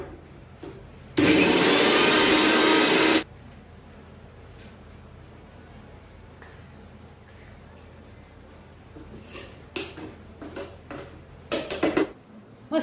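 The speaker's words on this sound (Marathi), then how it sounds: "मस्त मिक्सर मधून फिरवून घेऊयात आता." A mixer grinder blends mint chutney with lemon juice and rock salt in one loud, steady two-second whir, followed by light clinks and clatter of the jar and utensils.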